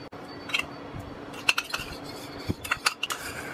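A spoon clinks and scrapes against a bowl in scattered bursts while chopped vegetables are mixed with veg mayonnaise, salt and black pepper for a grilled sandwich filling; close and fairly quiet, with no talking.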